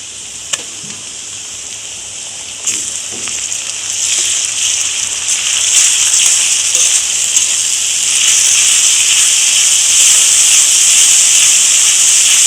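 Ginger garlic paste sizzles and hisses in a pan over onions already fried red, for a Shankar fish (stingray) curry. The frying noise is steady and loud, swelling after a few seconds, with a few soft clinks near the start.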